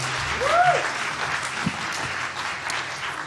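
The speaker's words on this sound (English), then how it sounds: "Another round of applause." Guests at a university journalism awards ceremony give a steady round of applause, continuous clapping throughout with a brief voice or whoop near the start.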